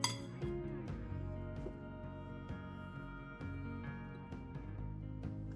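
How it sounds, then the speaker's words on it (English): A metal pastry blender works cold butter into a streusel topping in a bowl, giving repeated sharp clinks and taps. The strokes come in a quick, steady rhythm, close and fairly quiet. "This is a pastry blender."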